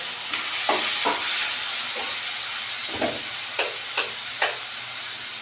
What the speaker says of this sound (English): So we added our onion and ginger to this.